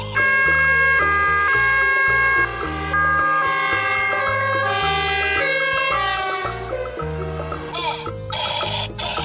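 A loud, close electronic toy ambulance siren plays a bright, beeping melodic pattern, its synthetic tones shifting up and down continuously.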